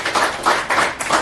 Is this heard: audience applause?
yes